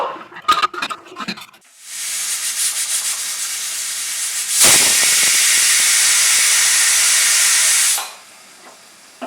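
A pressure cooker with mutton kosha inside, a Bengali spiced mutton curry, vents steam in a loud, steady hiss. The hiss runs for several seconds and then strengthens into a sustained whistle release before cutting off abruptly, with some clatter before it.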